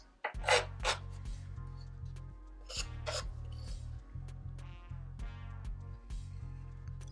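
Knife trimming the rough edges off a citrus peel garnish for an Old Fashioned, a string of close scraping, rasping cuts with low steady hum beneath.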